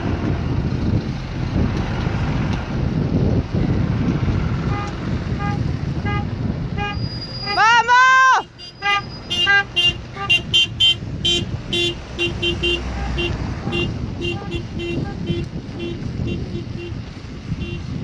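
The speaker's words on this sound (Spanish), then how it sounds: "Un montón de autos acompañándonos." Cars in a protest caravan of teachers hold steady engine and traffic noise, then a horn blares with a rising tone, followed by a series of repeated short honks, while voices can be heard in the background.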